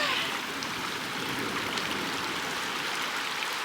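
River water flows steadily nearby in a rural Kenyan village, a continuous broadband rushing and trickling wash that stays even throughout with no talk.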